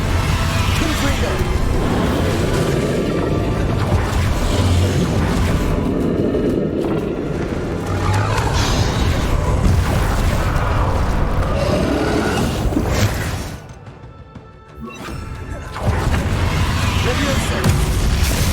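Confringo blasting spell explosions in Hogwarts Legacy boom repeatedly through a loud, dense battle din with rumbling low impacts, briefly dropping away before the chaos resumes, with a voice talking over parts of it.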